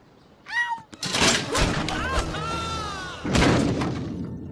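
A cat lets out several loud, drawn-out meows amid thumps and bangs, with short bursts of commotion in between.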